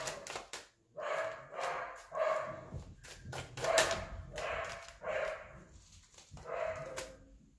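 A dog indoors gives repeated barks in an uneven rhythm, with yips and whimpers between them, loud and close.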